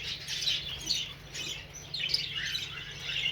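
Budgerigars in a breeding room give soft, fairly faint chirps and squawky calls in scattered bursts, with no talking.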